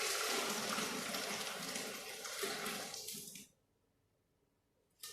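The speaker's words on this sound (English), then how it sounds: "I'm going to drain the water out of there." Water from a pot of half-cooked boiled potatoes pours steadily and loudly down a drain for about three and a half seconds, then cuts off into near silence before a brief knock at the end.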